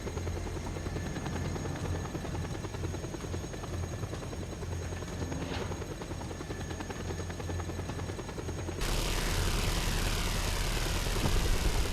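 A helicopter's steady rotor thrum and engine drone in the video game Just Cause 2 fill the whole clip, loud and continuous, with a brief rise in roar near the end.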